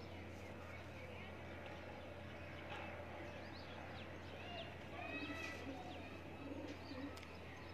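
A Lakha breed pigeon cooing softly and at a distance, low repeated coos with faint chirps over a steady background hum.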